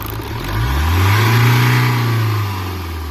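A Mahindra Scorpio S10 2015 diesel SUV engine revs up, the pitch rising to a loud peak before falling back toward idle, close by with no talking.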